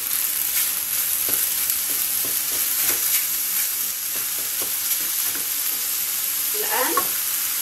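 Onions frying and being stirred in a pan while preparing a broccoli gratin, giving a steady close hiss of sizzling with scattered spoon scrapes and a brief louder clatter near the end.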